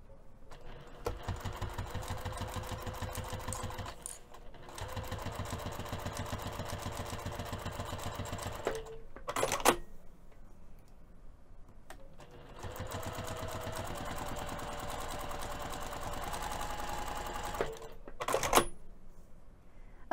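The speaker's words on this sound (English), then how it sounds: "we're going to take this back over to the sewing machine and top stitch both of the long edges using 1/8 of an inch seam allowance" A sewing machine topstitches both long edges of a fabric pouch with a longer 3 mm stitch, running in two long steady bursts separated by a pause, with brief handling clicks between, close and loud.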